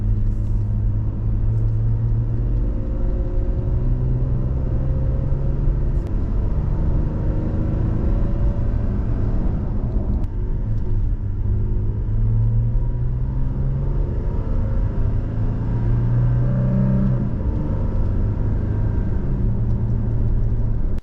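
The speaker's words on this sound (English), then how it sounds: "the sound is slightly louder with the TRD intake when accelerating, and in these clips you're about to hear, I'm going from about 15 to 45 miles an hour" Toyota Tacoma pickup fitted with a TRD air intake accelerating from about 15 to 45 mph, a loud continuous engine drone with rising pitch as it pulls through gears, steady road rumble underneath throughout.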